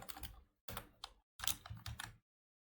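Bursts of rapid keystrokes on a computer keyboard while code is entered, three clustered runs of clicking separated by short pauses, close and fairly quiet with no talk.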